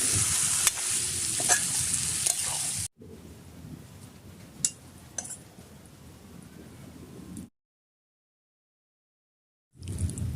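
Meat khichuri with potatoes is stirred and fried in a pot, giving a steady close sizzle with scraping spoon strokes. The sound breaks off into silence for a few seconds, then returns.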